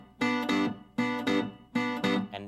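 Guitar chords strummed in a triplet-feel rhythm, a lopsided long-short pattern, pairs of strokes repeating like a heartbeat, close and fairly loud.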